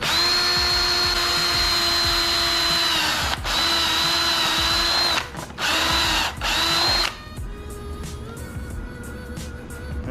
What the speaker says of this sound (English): all we gotta do now, guys, is drill holes through the back of this